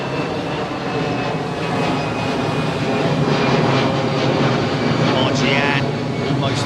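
A departing airliner in Virgin livery roars steadily off London Heathrow runway 09R, a broad continuous engine rumble held loud throughout, with faint voices murmuring underneath.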